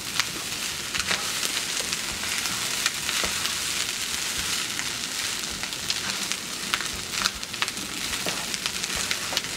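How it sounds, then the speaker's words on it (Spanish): Rice sautés in a hot pan for a festive Christmas rice dish, with a continuous close crackling sizzle and frequent popping spits. It goes on unbroken and alone, with no voices. "como estamos sofriendo el arroz"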